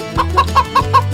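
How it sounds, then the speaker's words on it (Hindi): A chicken clucks in a quick, regular run of five or six short, bright clucks, loud and close, with no voices over it. "हमें उसे बताना होगा कि उसकी मुर्गी भाग गई।"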